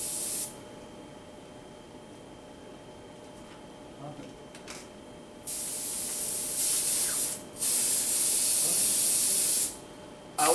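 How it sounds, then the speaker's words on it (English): An airbrush sprays dye onto leather in steady hissing bursts, one short spray mid-clip followed by two longer, louder passes with brief pauses between them, close to the listener. "I like applying it with an airbrush because there's no brush marks"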